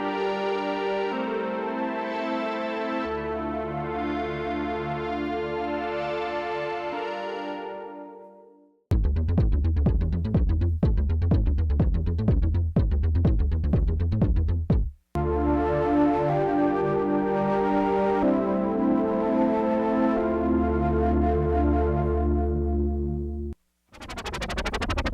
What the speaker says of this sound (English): Juno 106, and they sound like this.